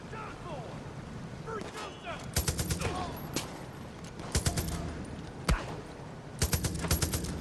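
Gunfire in Far Cry 5 on PS5: loud, sharp bursts of rapid shots come in several clusters over a steady game ambience, with a voice talking faintly at times.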